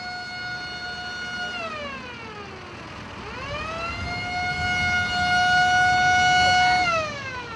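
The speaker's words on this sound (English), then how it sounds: "Cowcatcher Virendra is on the road with his ambulance to collect injured cows." An animal ambulance collecting injured cows sounds its wailing electronic siren on an Indian road, a loud two-tone sweep that drops, rises again and holds steady over traffic rumble, with no talking.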